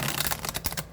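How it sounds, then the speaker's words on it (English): A Tarot of Vampires card deck being shuffled close up in a brief, dense flurry of riffling card clicks. "The Tarot of Vampires, which I'm going to shuffle"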